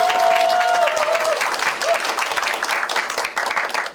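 Applause at a Justice Party presidential candidate Sim Sang-jung meeting with young social workers being introduced by name: loud, dense clapping from a crowd filling the room, with a voice briefly heard over it.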